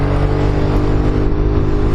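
Kymco Xciting 400i scooter engine accelerating on an open road, a loud sustained drone with layered harmonics rising steadily, close and continuous with no voices.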